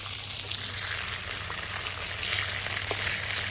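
Boal fish frying in hot oil in a home kitchen, a steady close crackling sizzle with occasional sharper pops, continuous and without talk.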